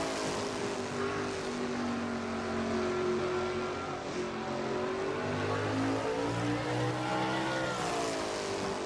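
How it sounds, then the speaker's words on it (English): Racing trucks in a Hunt Brothers Pizza Truck Series video game race at Colorado, including a Chevy, droning together at high speed with steady, continuous engine roar and shifting pitch throughout. "there's a look from inside Jessica Shelton's truck"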